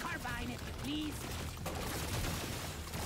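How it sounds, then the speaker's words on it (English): Explosions and gunfire-like blasts from the video game Deep Rock Galactic: Survivor form a dense, continuous crackling roar with a few brief chiming tones, loud and unbroken throughout. "Oh my god. Explosions."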